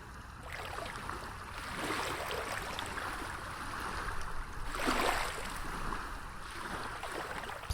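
Waves breaking at a beach, a continuous wash of surf with swells rising and falling and one fuller crash near the middle, with no voices.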